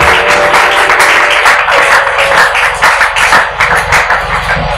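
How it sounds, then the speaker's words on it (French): A church congregation bursts into loud, sustained applause and cheering, a dense continuous wash of many hands clapping close by, with no speech over it. "Est-ce qu'on peut acclamer"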